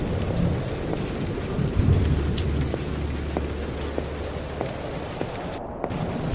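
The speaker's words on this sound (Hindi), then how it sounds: "लगता नहीं कि आज बारिश रुकेगी।" Steady heavy rain pours continuously while deep thunder rumbles low underneath, a dense, close storm with no voices.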